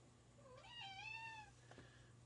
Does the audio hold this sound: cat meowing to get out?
yes